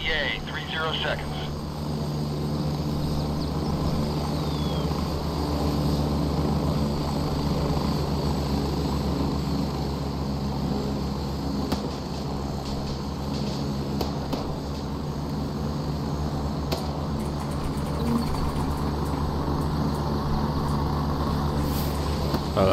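Helicopter in the video game Gray Zone Warfare approaching, a steady low rotor thrum and engine drone building underneath, with a player's voice talking over it.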